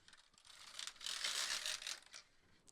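A Needle Beetle tool is run across the needle bed of a Brother 350 knitting machine, making a quiet, continuous mechanical rattling sweep that swells in the middle and fades over about two seconds.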